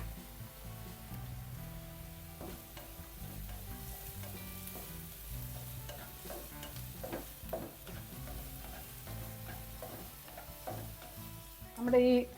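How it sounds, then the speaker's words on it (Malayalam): Sliced onions sautéing with salt in a pan, a steady close sizzle and frying crackle running throughout with occasional stirring, no voices over it. "സവാള നല്ലതുപോലെ ഒന്ന് വഴന്ന് വരണേ."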